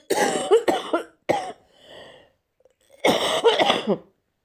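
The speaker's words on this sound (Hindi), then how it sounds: "खांसी बहुत तेज हो रही है" Several harsh coughs in quick bursts, close and loud, with a short pause and a faint breath between clusters.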